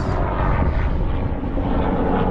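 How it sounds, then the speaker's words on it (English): A news channel helicopter passes over a Seattle park, a loud, steady engine and rotor drone filling the whole moment without any voices. "And there's a helicopter. I think that's a Como News Channel 4 helicopter."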